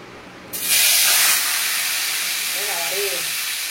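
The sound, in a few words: fish sizzling as it is put into hot oil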